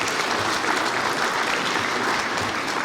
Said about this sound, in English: Can we have a round of applause for integrity,